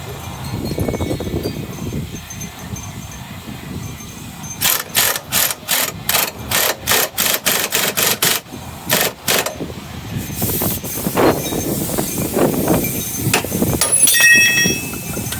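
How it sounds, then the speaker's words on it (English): A rapid series of loud metallic hammer blows rings out in bursts on a part of a 1991 Infiniti M30, preceded and followed by scraping, clanking mechanical noise nearby. "Put as much pressure as I can with the hammer to get it off."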